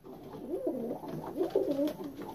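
Pigeons coo close by in a series of soft, rolling, wavering calls that rise and fall over a quiet background, with no talking.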